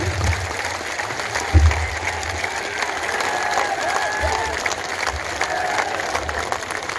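At a political rally addressed by Defence Minister Rajnath Singh, a large crowd keeps up sustained applause, a dense, even roar of clapping with crowd noise, steady throughout.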